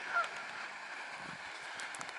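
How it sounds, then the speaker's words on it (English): Canada geese in a park, with one brief honk near the start and fainter, scattered calls after it over a soft outdoor background. "The problem with the Canada geese, that the mess they leave absolutely everywhere."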